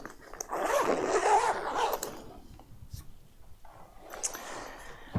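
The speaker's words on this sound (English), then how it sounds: "we just can put those cables back here and zip it" Zipper closing a solar panel's fabric carrying case, a close, scratchy pull lasting about a second, followed by quieter rustling and handling of the case.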